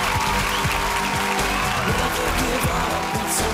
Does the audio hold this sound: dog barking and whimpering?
no